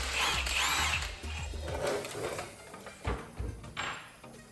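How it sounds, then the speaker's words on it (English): Bolt being loosened from the secondary clutch of a 2025 Polaris General XP 1000 UTV with a power tool, a close, rough mechanical whirring that runs steadily then breaks into several shorter bursts. "Then we're going to take the bolt off the secondary clutch."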